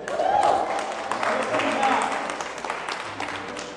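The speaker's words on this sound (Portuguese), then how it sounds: "Salva de palmas pro Lucas" A church congregation applauds at a worship service, a steady wash of clapping that fades slightly toward the end, with a voice speaking over it.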